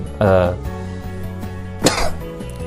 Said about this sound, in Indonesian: Ini saya batuk bukan sakit ya saudaraku, tapi memang serak saudaraku.